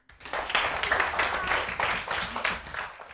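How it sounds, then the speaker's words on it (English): Children in a primary school literacy class give a round of applause, a fairly close, busy patter of many small hands lasting a few seconds before fading out. "Give him a clap."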